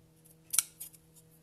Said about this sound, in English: So let me cut it a little bit.